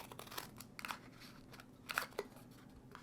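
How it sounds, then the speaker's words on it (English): Scissors snip into a paper cup in a few separate cuts heading down toward its base, crisp and close, with quiet crinkling of the paper between cuts. "we're going to cut all the way to the bottom"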